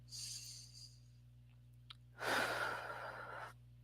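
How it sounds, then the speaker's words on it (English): A single deep breath, a slow inhale with a sharp intake near the middle followed by a long audible exhale like a sigh, heard close and alone over a low steady hum during a guided stress-relief exercise. "So take a deep breath."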